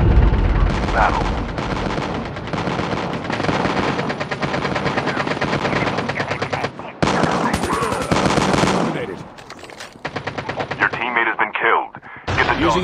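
Dense, loud bursts of rapid automatic gunfire in COD Mobile crackle almost without pause, broken by short gaps and sharp impacts, with game voices speaking under the shooting.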